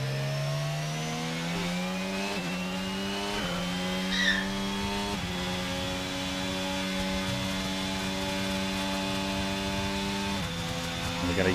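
A race car in a Portugal-circuit racing video game spins with a steady whining engine tone that shifts pitch in steps, broken by brief tire-squeal chirps, continuous and moderately loud throughout.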